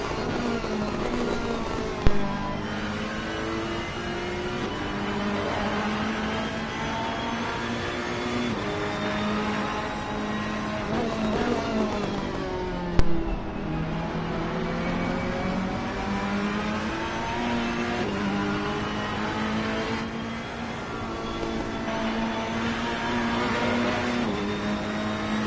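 Ferrari GT3 race car engines in a racing video game at Mount Panorama, a continuous loud drone with rising and falling revs as the cars accelerate and shift, with a couple of sharp knocks.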